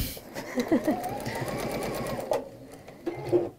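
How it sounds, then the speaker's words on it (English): A sewing machine runs steadily, stitching through fabric in a continuous mechanical whir, fairly close and alone with no talking. "I'm just going to sew it."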